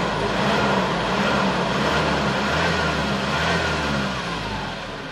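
A 2012 Ford Ranger XLS engine is revved, producing a continuous loud, rough mechanical roar that holds steady and slightly eases off toward the end, heard close up with no talking.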